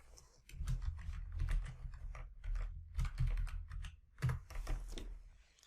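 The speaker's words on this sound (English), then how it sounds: "and then I'll type in the descriptions." Steady typing on a computer keyboard, quick clustered keystrokes in bursts with short pauses, close and fairly loud, entering descriptions into a data block designer; no one speaks.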